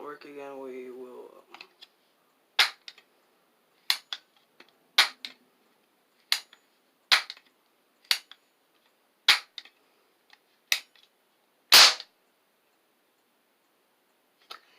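A toy cap gun fires about ten sharp, loud snaps, spaced a second or so apart and close by, after a short bit of talking at the start.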